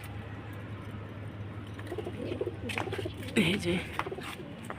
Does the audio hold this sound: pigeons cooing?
yes